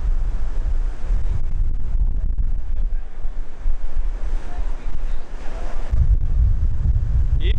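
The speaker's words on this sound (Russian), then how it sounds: "Ветер." Strong wind buffets the microphone on a beach at the Royalton Hicacos resort in Cuba, a constant rumbling roar with the wash of surf mixed in and gusts swelling toward the end.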